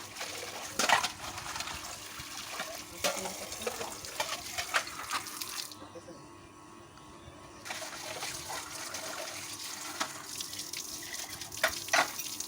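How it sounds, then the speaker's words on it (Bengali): Tap water runs into a sink while plates and tea cups are washed, giving a continuous splashing stream with clinks of dishes and a brief pause midway. "কথা বলতে বলতে আবারও কিছু প্লেট চায়ের কাপ এগুলো একটু মেজে নিলাম"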